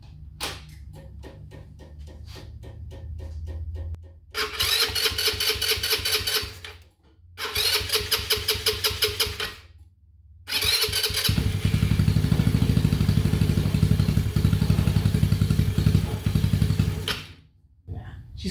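A cold Honda Ruckus scooter that has sat unused is started up and run, its small engine firing in loud bursts with brief cutouts before settling into a steady idle, after some clattering beforehand.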